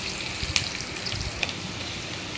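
Cumin and onion fry in hot oil in a pan after mustard seeds have spluttered, giving a steady close sizzle with a couple of sharp pops.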